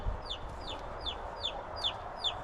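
Chicken chirping with a rhythmic string of about six sharp, high downward calls over a steady background hiss, moderately close, with no talking.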